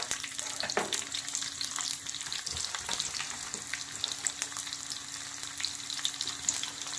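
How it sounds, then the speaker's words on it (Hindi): Onion frying in hot oil for besan kadhi, a dense, steady crackling sizzle with occasional stirring clicks, close and even throughout, with no speech. "प्याज डाल दूँगी।"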